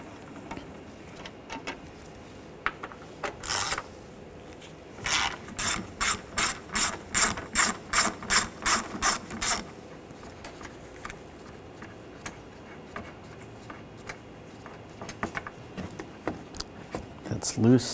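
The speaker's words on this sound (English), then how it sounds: "Using a 8 millimeter socket, take these screws out." A ratchet with an 8 mm socket removes screws on a Ford Escape, a clear run of rapid rhythmic clicking strokes mid-clip, with speech and softer handling clatter around it.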